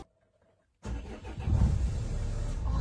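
A truck engine with a starting fault cranks into a loud, rough running rumble after a moment of near silence, holding steady and close.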